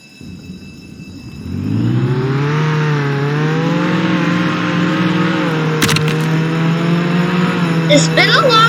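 Engine of a new car in the Roblox Jailbreak video game revving up from idle to a steady, loud, sustained drone, with brief clicks and a short voice-like burst near the end.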